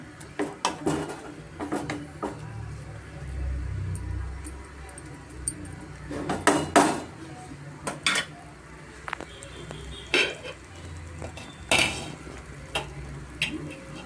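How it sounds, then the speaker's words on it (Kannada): Bottle gourd halwa with grated gourd and milk is stirred in a pot on a medium flame, then covered with a lid: intermittent scraping and metallic clinks of spoon and pot, close and fairly loud. "ನೀಟಾಗಿ ಮಿಕ್ಸ್ ಮಾಡಿಕೊಟ್ಬಿಟ್ಟು ಲೈಟ್ ಮುಚ್ಕೊಳ್ಳೋಣ"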